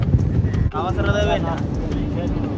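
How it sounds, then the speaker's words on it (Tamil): Strong wind buffets a boat out at sea, a steady broad rush with gusts roaring over the microphone, and a voice speaks briefly partway through. "இந்த பாருங்க சரியான காற்று"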